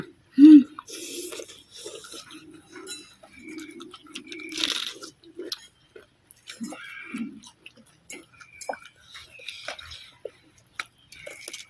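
Someone chews a spicy pounded salad of fresh shrimp and Mama instant noodles in fermented fish sauce. Close, crisp crunches and soft wet smacks come in irregular bursts across about twelve seconds, mostly alone with short quiet gaps.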